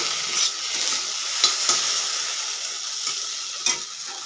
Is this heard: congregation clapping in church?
no